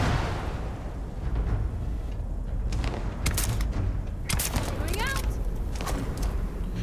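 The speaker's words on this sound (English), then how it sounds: "Oh, you threw the grenade." Grenade blast and gunfire in the video game Starfield, with sharp bursts and booms over a steady rumbling background of combat noise.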